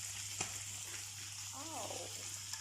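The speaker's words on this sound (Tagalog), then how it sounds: "or you can get new frying pan, and we will mix saute our fried chicken." Chicken sautéing in a frying pan makes a quiet, continuous hiss of frying, with a faint brief voice-like sound partway through.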